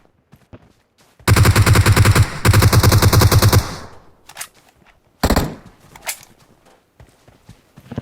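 Gunfire in the battle royale game PUBG: two loud, sustained automatic bursts, then a few scattered shots and one sharp burst later, with quiet gaps and faint footsteps between, no talk.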